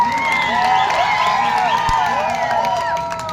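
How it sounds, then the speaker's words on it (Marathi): A crowd at an Adivasi day gathering in Akole claps, cheers and whoops loudly and continuously, with many voices shouting together. "एकदा तुमच्यासाठी सगळ्यांनी जोरात टाळ्या वाजवा"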